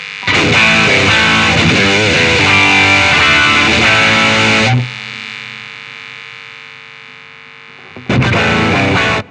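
Electric guitar played through a distortion pedal roars out a loud, saturated riff and chords, then decays into a few seconds of fading sustain before another dense distorted strum cuts back in.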